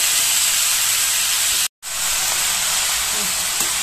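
Ponnaganti leaves frying in a pan, giving a steady, loud, close sizzle and hiss that cuts out briefly and then returns at the same level.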